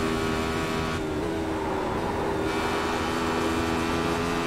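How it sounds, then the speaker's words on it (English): A Radical race car in iRacing, its motorcycle-derived V-twin engine revving hard and high, a loud sustained engine whine with pitch shifts as the revs climb and fall, heard alone without talk. "These motorcycle engines that are combined into, a twin and into a V, they really like high rev"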